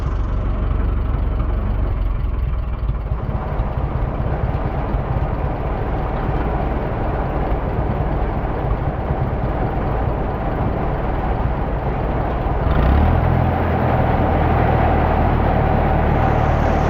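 An offset tractor runs a grain auger, giving a steady, loud mechanical drone of engine and auger throughout, with a brief louder thump and surge near the end.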